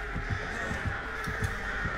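Crows caw in the video game Dead by Daylight, with a short run of rhythmic, throbbing calls over a steady hum.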